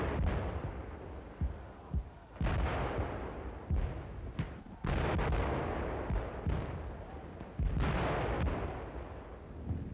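Heavy World War One artillery guns fire again and again, deep booming blasts landing at irregular intervals over a constant rumbling battlefield roar, some near and some distant.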